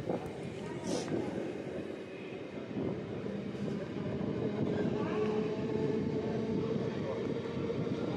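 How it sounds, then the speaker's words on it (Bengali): A Howrah-Bandel local train pulls out of Liluah station with a steady rumble and rattle of carriages from inside the coach, which builds slightly over time, while voices murmur around it. "এই মুহূর্তে আমাদের ট্রেন লিলুয়া স্টেশন ছেড়ে চলে যাচ্ছে।"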